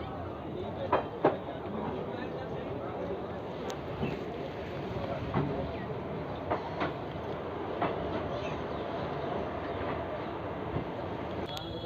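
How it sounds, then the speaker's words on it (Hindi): The Garib Nawaz Express, hauled by a WDP 4D diesel locomotive, pulling out of Lucknow station: a continuous rumble with periodic clickety-clack of wheels over rail joints, steady and fairly close. "तो अभी हमारी गाड़ी का डिपार्चर हो गया लखनऊ लखनऊ रेलवे स्टेशन से।"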